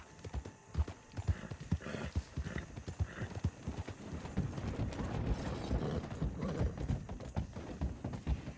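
Horse hooves clip-clop steadily in Red Dead Redemption 2, a brisk, even rhythm that runs the whole time. The hooves are close and fairly loud, with faint creaking and rattling of tack underneath.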